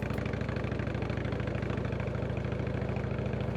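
A motorcycle engine idles steadily at a sunny Sunday border crossing near Ponte Tresa on the Italian-Swiss frontier, a close, even low throb that runs without pause and with no talk over it.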